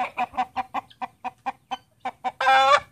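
A rooster gives a run of about a dozen short, evenly spaced clucks, close by, ending in a louder, drawn-out squawk.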